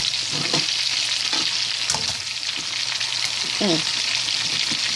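Crabs fry in a pan, giving a loud, continuous sizzle with scattered clinks and scrapes of utensils against the pan.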